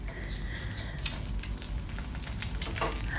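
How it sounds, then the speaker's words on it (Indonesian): Eggs frying in a pan for sunny-side-up eggs, with a steady, loud, close sizzle and crackle throughout and some clinks of stirring or handling. "Goreng telurnya sampai matang dan lakukan sampai telurnya diceplok semua ya."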